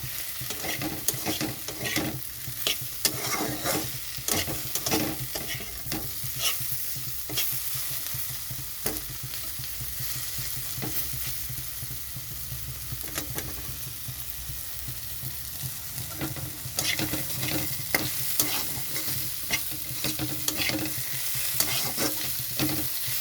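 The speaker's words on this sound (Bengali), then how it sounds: "গ্যাসটা বাড়িয়ে দিয়ে একটু ভেজে নিয়ে নামিয়ে নেব" Capsicum, potato and onion frying on high heat in a pan, a loud continuous sizzle broken by frequent scraping stir strokes over a long stretch, with no voices.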